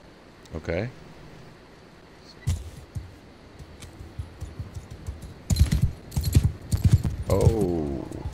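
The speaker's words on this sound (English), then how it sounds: "I'm on a horse." Horse hooves clop in the video game Mount & Blade 2 Bannerlord, uneven thuds that thicken into a quicker trotting rhythm toward the end, close and moderately loud over low background hum.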